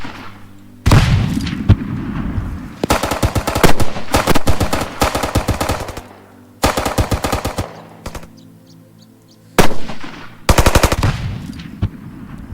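Machine gun fire in a WWII military simulation video game: loud, close bursts of rapid automatic shots, several long volleys separated by short silences, with heavy booms at the start of bursts.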